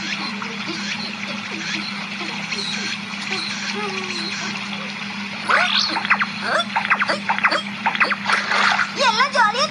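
Cartoon children splash and play in river water, with bursts of splashing and sloshing growing busier in the second half over a steady background hum, and voices are heard throughout.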